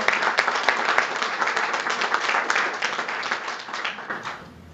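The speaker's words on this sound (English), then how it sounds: "Please give them a round of applause." A round of applause at a transit seminar: dense, steady clapping from a room of attendees that gradually fades out.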